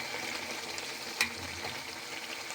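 Milk cream (malai) cooks down in a pan into ghee, giving a soft, continuous bubbling sizzle with one brief clink partway through.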